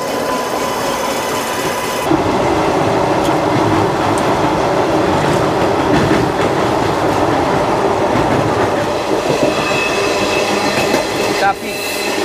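A passing train rolls by on an Indian railway while a halted express waits beside the line, making a loud continuous rumble with rhythmic wheel clatter and a brief squeal of wheels near the end.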